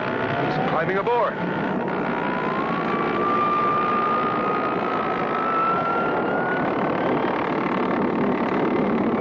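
A cartoon airplane engine drones steadily and loudly throughout, with a slowly rising whine layered over the continuous roar and a brief swooping sound near the start.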